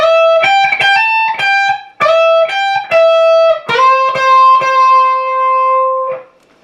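A fast, sustained electric guitar lick with quick runs of notes and a held note ringing out near the end, no talking.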